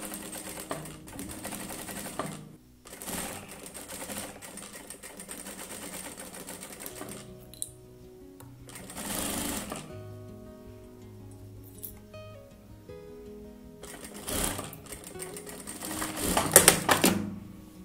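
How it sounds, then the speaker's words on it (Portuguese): A sewing machine stitches fabric and a zipper in bursts, rapid mechanical chattering runs stopping and starting between quieter pauses with faint clicks, close and moderately loud. "vou passar uma costurinha com um pezinho nessa parte de cá"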